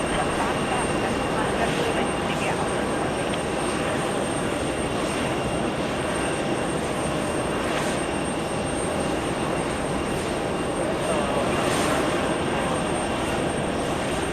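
A Virgin Atlantic airliner taxis toward the runway at JFK airport, giving a steady, broad engine roar from a distance that holds throughout, with a voice talking over it at times.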